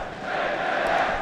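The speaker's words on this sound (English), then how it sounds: "that sound is just absolutely thundering around" A large crowd at the IEM Sydney 2023 esports semifinal roars loudly and continuously in an arena, a dense sustained wall of cheering.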